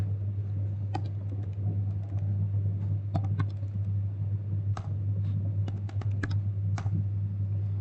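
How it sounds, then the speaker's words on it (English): Keys on a computer keyboard tap out a terminal install command, scattered clicks arriving in short bursts over a constant low electrical hum, close and fairly quiet with no voices. "open our terminal and type sudo apt install STEGHIDE"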